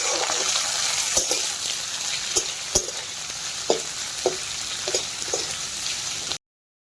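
Chopped onions and green chilies frying in hot oil in a pot for mutton curry, a loud continuous sizzle with scattered stirring clicks and scrapes, close by and without talk, cutting off abruptly at the end.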